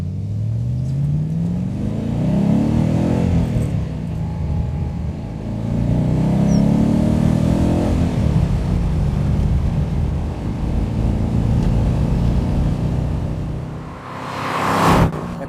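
A 1992 Marcos Mantara V8 sports car accelerates hard through repeated gear changes, its engine note rising, dropping at each shift and climbing again, loud and close with a steady rumble, with no voices.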